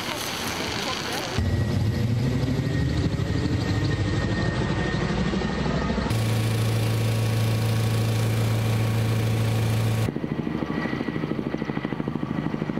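A helicopter flying over a wildfire, its rotor and engine droning loudly throughout, with a steady low hum and shifting tone as it passes, no voices.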